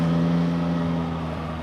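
A Yamaha MT-09 Y-AMT motorcycle engine under hard throttle produces a loud, steady droning roar with a strong low tone that holds and eases slightly toward the end, with no voices.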